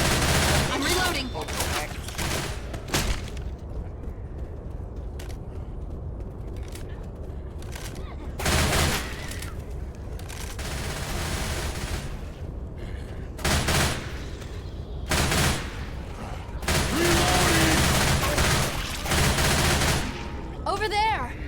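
Rapid zombie-shooting gunfire in a video game, with dense bursts of automatic shots and single blasts coming in clusters across the clip, loud and close, separated by quieter gaps.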